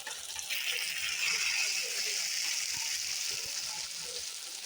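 Ginger garlic paste sizzling in a frying pan of pav bhaji masala, a steady hissing fry that swells loudly then holds, with soft clinks of stirring underneath.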